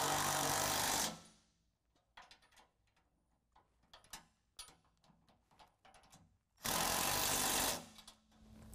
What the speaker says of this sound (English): tighten down the two bolts to hold the support brace to the frame horn